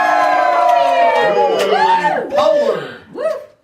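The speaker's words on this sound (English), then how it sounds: "And a crowd of rabid Mike Eagleson fans." A live studio crowd of children cheering and shouting, loud and close, with excited voices rising and falling in bursts before trailing off.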